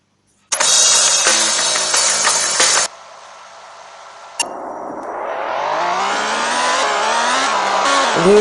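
Bugatti Veyron engine in a racing video game, a loud harmonic drone for about two seconds, a short drop to a quieter idle, then a steady rising rev as the car accelerates, with no talking.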